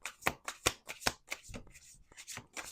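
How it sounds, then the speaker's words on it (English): Cards are shuffled close up in quick riffling bursts, a rapid series of crisp flutters and taps with no talking. "We're going to do two more shuffles."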